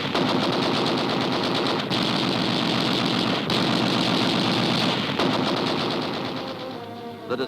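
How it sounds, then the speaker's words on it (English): Sustained machine-gun fire from a WWII warship at a crippled submarine in mid-ocean, a loud continuous rattling barrage with brief gaps, fading toward the end. "Immediately, a torrent of gunfire is turned on the crippled sub."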